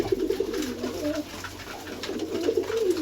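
A pair of Bombay pigeons coo close by in low, throaty, rolling calls, two bursts separated by a short pause, over faint background noise.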